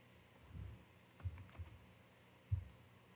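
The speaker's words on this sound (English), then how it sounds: "Just type that in." Typing on a computer keyboard while working in FreeCAD: a few soft, scattered key taps, faint and close, with brief gaps between them and no talk.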